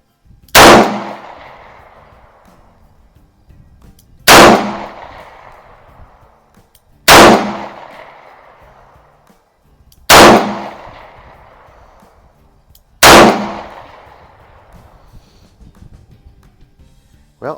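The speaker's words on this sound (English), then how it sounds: "we'll go ahead and see what we can do shooting at single action" Five loud, close gunshots from a Smith & Wesson Model 36 revolver firing .38 Special in single action, each a sharp crack with a brief decaying ring, spaced about three seconds apart with near silence between.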